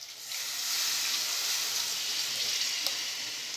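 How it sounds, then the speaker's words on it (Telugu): Tamarind juice hits taro frying in hot oil for a Rayalaseema-style pulusu, setting off a loud, steady hiss of sizzling that holds up close for several seconds. "ఇది ఈ పులుసుని మనం ఇందులో వేసేసుకుందాం."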